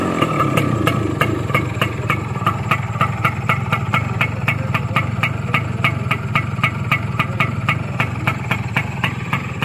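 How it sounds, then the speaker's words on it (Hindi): Kawasaki GTO 110 motorcycle, a 1979 model, idling steadily up close, a loud, even single-cylinder putter with regular rapid firing pulses and no talk over it. "ये जी, अब इसका आपको मैं साउंड टेस्ट करवाता हूँ, व्हीकल स्विच ऑन"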